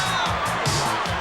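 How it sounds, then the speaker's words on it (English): A dense crowd at an early-1990s calcio storico match in Florence roars in a frenzy, with continuous loud cheering, whoops and shouts blending into one near, unbroken wall of noise. "As the crowd is worked into a frenzy"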